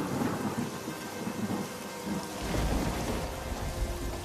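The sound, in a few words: rain and thunderstorm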